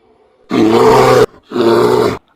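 A bear roars twice in a children's story read aloud, each roar a loud, close, sustained burst lasting under a second, separated by a short pause.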